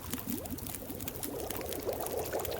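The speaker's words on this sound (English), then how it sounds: "we can make some coffee, which we're going to do that because that will also warm us up" Liquid is poured while making coffee in The Long Dark video game, a soft, steady gurgling trickle that runs for a few seconds at low volume with no speech.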